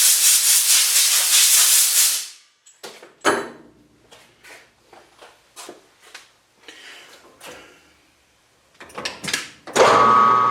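Compressed air blasts metal chips off a TIG welding gas diffuser, starting with a loud hiss that cuts off after about two seconds. A string of short clicks and light metallic taps follows, then a second loud burst of air at the end.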